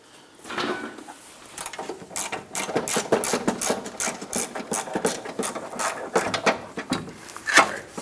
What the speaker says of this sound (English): You can reach inside the fender well, grab that strut, loosen that bolt.